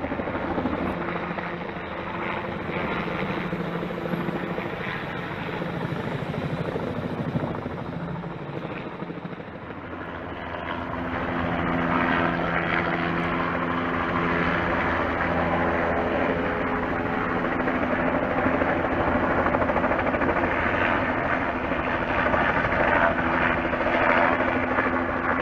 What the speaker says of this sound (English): This is the helicopter, medical helicopter, landing right now at Vanderbilt Medical Center.